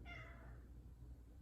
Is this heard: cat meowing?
yes